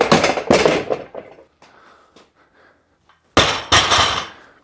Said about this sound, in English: they're bumper plates, so let's drop them